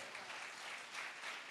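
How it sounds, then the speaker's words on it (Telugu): A church congregation claps together during a Sunday sermon, producing dense, even applause that is fairly close and runs throughout without a break. "చప్పట్లు కొట్టండి."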